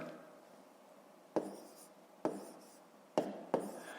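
Digits jotted by hand for a fifth-grade maths division problem, a few short, separate scratchy pen strokes, close and quiet against a soft background, with no talking.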